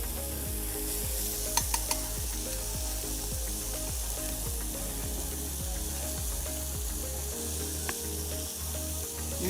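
Green chilies frying in the bottom of a pan at a food expo cooking demo, a constant close sizzle with stirring scrapes and a faint steady background hum, no speech.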